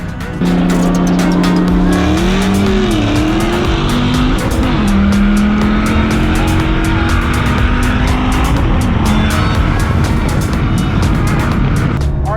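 Dodge Challenger Hellcat and Viper ACR launching in a race, a loud continuous engine roar with screeching tire squeal from wheelspin that rises and wavers throughout, steady and close.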